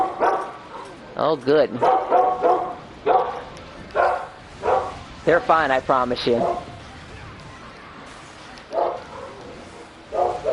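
Several dogs bark and yip indoors in a house, sharp repeated bursts in clusters, some whining, close and loud, with a person talking over and between them.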